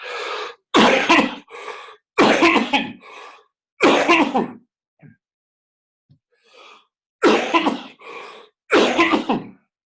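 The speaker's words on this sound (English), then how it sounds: "This cough hasn't gone." Several loud, close coughs and throat-clearing bursts in short clusters, separated by brief pauses and a few quieter breaths.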